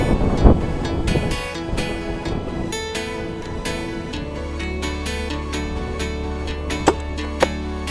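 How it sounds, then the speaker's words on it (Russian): Strong wind roars across an outdoor crossbow shooting session in rainy weather. It is a loud, steady rush buffeting the microphone, with a few sharp knocks and clicks near and in front. "Ветер очень сильный."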